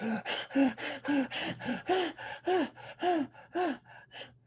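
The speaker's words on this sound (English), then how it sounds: "I'm breathing heavily because I have done this without oxygen" Heavy panting breaths after running, a rapid series of about a dozen loud, close gasping inhales and exhales in a steady rhythm, heard alone with no talk.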